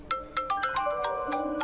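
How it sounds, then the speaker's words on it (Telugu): A mobile phone ringtone for an incoming call plays in a film scene at a railway station: a short, bright electronic melody of repeated chiming notes, close and clear with no talk. "అమ్మ కాల్ చేస్తుంది."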